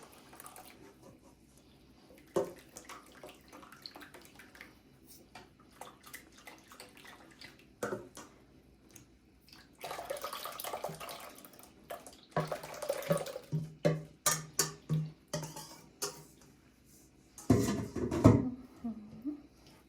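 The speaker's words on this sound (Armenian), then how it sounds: "ջուրը կավելացնեմ արդեն կաթսայի մեջ" Water runs and splashes in intermittent bursts, with a few louder gushes toward the end, close and fairly quiet overall.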